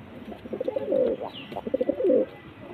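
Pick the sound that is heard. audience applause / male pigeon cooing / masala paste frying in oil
male pigeon cooing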